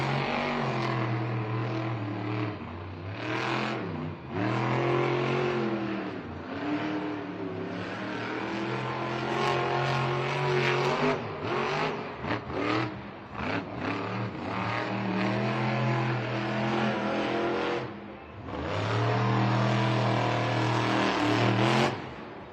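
A monster truck engine refired at a Monster Jam stadium event, revving loudly and continuously for over twenty seconds with repeated surges and dips in pitch, dominating the arena sound.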